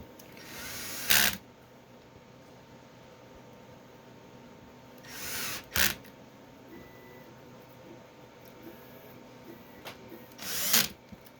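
A power driver tightens resin printer vat screws to a set torque in three short whirring bursts spaced a few seconds apart, each ending sharply, with quiet room tone between them.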